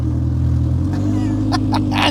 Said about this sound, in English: We are driving now.